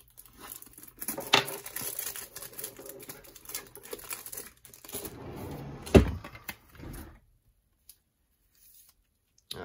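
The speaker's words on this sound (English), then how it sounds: "gotta rip them out of plastic" Trading card packs being ripped out of plastic wrap, heard as crinkling and tearing plastic in uneven bursts, with a sharp rip near the end before it goes quiet.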